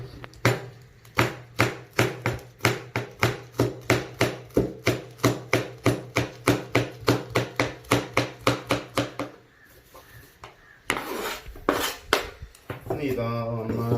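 Two green chillies are chopped with a knife on a board for yoghurt chicken curry: a fast, even run of about thirty sharp, close knocks, then a short pause and a few scraping and clattering sounds.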